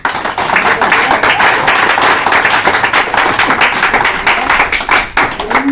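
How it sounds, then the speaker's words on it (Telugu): An audience at a Christmas and New Year celebration in Mangappattanam claps for a man, loud and continuous applause from many hands, close and steady throughout. "దీని కేర్ తీసుకున్న అన్నకు క్లాప్స్ కొట్టండి ఫస్ట్"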